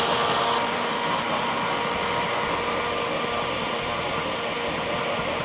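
A kitchen blender runs steadily at full speed, grinding cooking ingredients with added water for a duck recipe, a loud continuous whirring roar that holds unchanged throughout.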